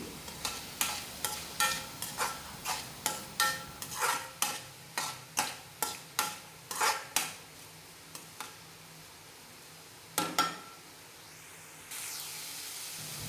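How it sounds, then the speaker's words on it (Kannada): Vegetables with rock salt being stirred in a pan, a close regular series of scraping strokes over a low frying hiss, pausing midway before a couple of final strokes. "ಈಗ ಇದಕ್ಕೆ 1 ಚಮಚ ಕಲ್ಲುಪ್ಪನ್ನು ಸೇರಿಸಿ ಪುನಃ ಮಿಕ್ಸ್ ಮಾಡಿ"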